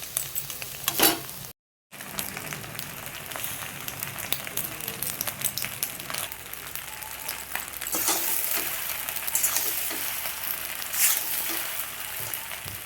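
Short pasta and spices go into a hot pan and fry, giving a dense, steady sizzle with occasional stirring scrapes, briefly cut by a moment of silence early on.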